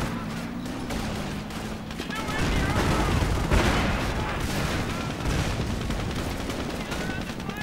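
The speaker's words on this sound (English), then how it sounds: "More Panzerschreck fire." Video-game tank battle with Panzerschreck rockets firing at a Pershing and a Panther, loud overlapping blasts and gunfire rumbling continuously with a commentator's voice audible early on.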